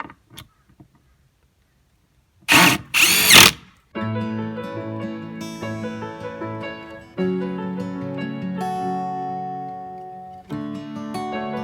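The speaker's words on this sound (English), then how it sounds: "We purchased an impact driver." An Einhell impact driver works on a wooden garden planter box, giving two short, loud, rattling bursts close by after near silence.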